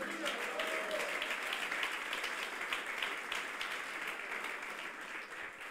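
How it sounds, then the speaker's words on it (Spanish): A church congregation claps together during a Spanish-language worship service, a steady dense roll of applause at a moderate distance that holds evenly without voices. "Palmas para Cristo."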